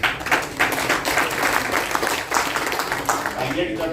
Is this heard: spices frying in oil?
no